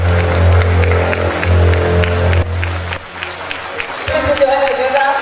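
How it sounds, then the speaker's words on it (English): Conference audience applauding at the opening of a college of medicine scientific plenary session, broad crowd clapping over a low steady hum, thinning and changing texture partway through, with some voices mixed in. "Please put your hands together."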